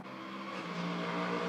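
A prototype race car at a Sydney circuit in the Australian Prototype Series roars past the finish line, its engine note loud and close, building slightly in intensity over a brief pass with no talking.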